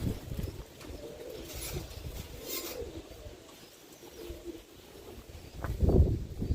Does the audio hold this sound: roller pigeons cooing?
yes